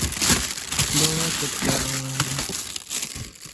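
Crinkly crumpling of a plastic bag while packing parcels, a busy rustle running throughout at close range, with a faint voice murmuring in the background.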